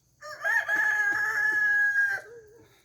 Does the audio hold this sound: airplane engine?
no